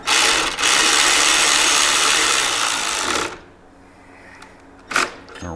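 Bolts on a Softail motorcycle's saddlebag bracket being run in with a power tool, a loud steady whirring ratchet for about three seconds, then quiet with a brief burst near the end.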